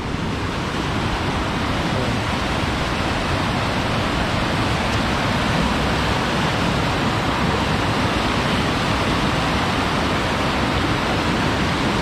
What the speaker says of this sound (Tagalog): Ang ganda ng ano dito, oh, falls.